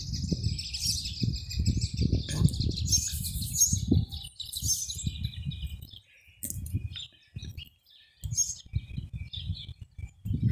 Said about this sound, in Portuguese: Ó, passarinho chegando